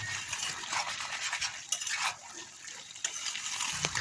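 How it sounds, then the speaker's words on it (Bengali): Fried mourala fish slide into a simmering vegetable curry in a pan, with a stirring scrape, light clinks of a utensil on the pan and a soft bubbling sizzle, heard close up. "এই মুহূর্তে আমি আগের থেকে ভেজে রাখা মাছগুলো আমি এর মধ্যে দিয়ে দিচ্ছি।"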